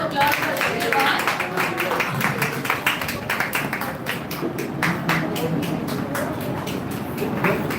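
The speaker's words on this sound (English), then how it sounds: "Please give a round of applause for everyone." Applause at a school Earth Day debate, with dense, steady clapping across the whole stretch and a bright, busy texture from many hands in a room. Voices are mixed in.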